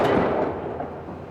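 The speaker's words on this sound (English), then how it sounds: "Those Chinese firecrackers pack quite a wallop." Chinese firecrackers set off remotely behind blast screens during a test, a single loud, close burst followed by a dense rumbling decay that fills the moment with no voices.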